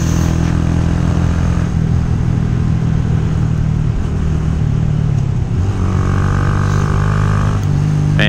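A Honda Grom motorcycle engine drones steadily and loudly while riding on a gorge road, with constant wind rush, a slight dip in pitch near the middle and a brief rise at the end.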